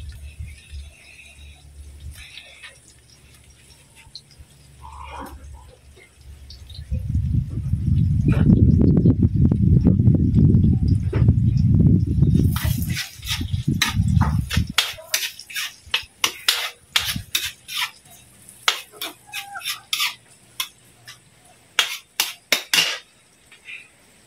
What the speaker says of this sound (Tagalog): Ginigisa na ho natin ang ating sibuyas bawang.